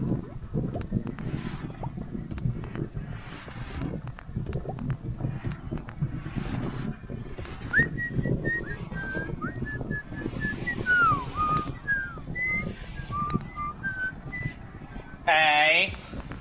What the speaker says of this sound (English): It took me a minute to find out what you were whistling.